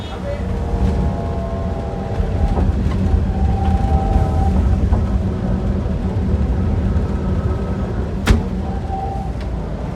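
Adhi Prima double-decker sleeper bus pulling away and accelerating, a low steady engine rumble and road drone heard from inside, with faint rattles and a sharp knock, while people talk over it.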